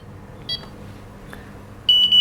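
A Delkim carp fishing bite alarm set to beep speed 3 sounds a few faint isolated chirps, then a louder, steady high-pitched electronic tone kicks in at the end, heard alone in a quiet setting.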